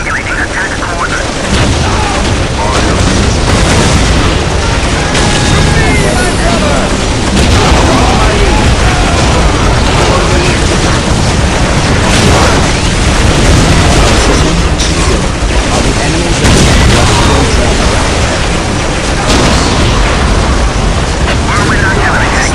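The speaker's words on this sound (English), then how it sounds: "Preparing whirlwind missile battery to fire" A Whirlwind missile artillery barrage in the Warhammer 40k game Dawn of War makes dense, continuous loud booms and cracking explosions, with voices speaking over the din throughout.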